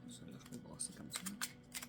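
Oracle cards are shuffled by hand in a quick run of papery riffles and soft slaps, close and quiet, with a voice speaking over them.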